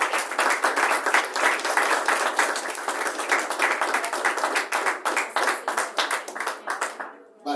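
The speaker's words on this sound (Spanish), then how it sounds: "Denle un aplauso al Señor," A church congregation applauds during a service, dense and sustained clapping from many hands that runs steadily and then thins out near the end.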